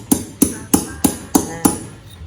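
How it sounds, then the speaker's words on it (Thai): A screwdriver is hammered against a ceramic cup to tap a hole: six sharp, evenly spaced strikes, close and loud, with no talking. "เราจะใช้ไขควงตอกต่อได้กันอย่างนี้"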